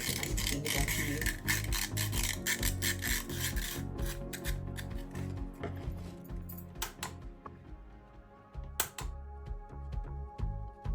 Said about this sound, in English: I was just using some sandpaper just to get that surface off